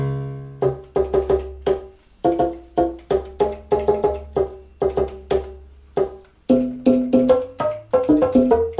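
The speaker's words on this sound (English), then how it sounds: "I seem to have loaded some sort of piano." A piano sample on a Fenix IV synthesizer plays a series of struck notes and chords, with crisp attacks that decay quickly, in an uneven rhythm that moves to lower and then higher pitches before quickening toward the end.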